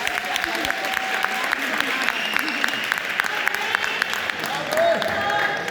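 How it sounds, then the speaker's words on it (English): An audience gives a round of applause for a singer after his original song, sustained crowd clapping with sharp individual claps standing out, steady and fairly close, with some voices mixed in. "Let's give him a round of applause."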